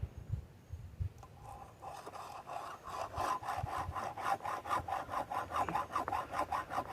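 A hand file sharpens a chainsaw chain, starting with a few scattered scrapes before settling into quick, regular rasping strokes, each a short gritty rub, repeated close by.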